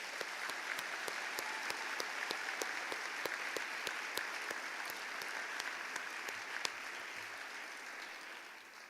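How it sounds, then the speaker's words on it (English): Sustained applause from a conference audience at the AASHE 2017 award ceremony, steady dense clapping carrying on at an even level for the whole stretch with no talking over it. "Let's give the AASHE Sustainability Award winners a big round of applause."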